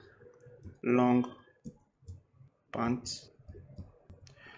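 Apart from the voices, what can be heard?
typing a prompt on a computer keyboard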